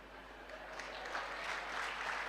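Audience applause at a motivational speech, a soft, distant patter of clapping hands building slightly and sustained throughout.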